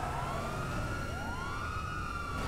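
A wailing police siren on a lifeguard vehicle in GTA 5 rises and falls in smooth sweeps, steady and moderately loud over a constant background rumble.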